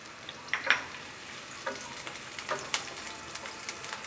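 Chopped onion and green chillies fry in a little oil, giving a faint, sparse sizzle with scattered soft crackles and pops in a quiet kitchen.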